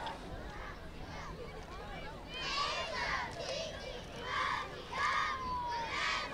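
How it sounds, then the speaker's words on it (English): Crowd at a youth football game between the Medway Colts and Norton Black Knights, a steady outdoor murmur of spectators and children's voices with rising bursts of cheering and shouting throughout. "Got a good crowd here today, a lot of kids out."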